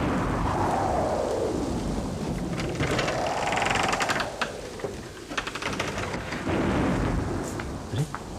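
A heavy thunderstorm with steady pouring rain, with long rolling rumbles of thunder building and fading over the downpour, heard indoors in an old Pakistani theater drama.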